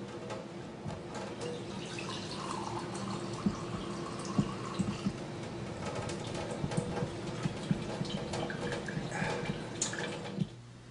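Water trickling and dripping through a countertop drinking-water filter system with filter cartridges still saturating, a steady close running and splashing sound without talk.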